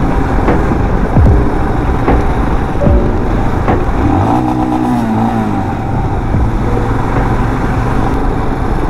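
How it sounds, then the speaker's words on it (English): A Royal Enfield Himalayan motorcycle revs repeatedly inside a tunnel, sharp throttle blips and rising engine pitch ringing off the walls, loud and close with a booming echo. "whenever I pass through the tunnel, I do this. I rev my bike."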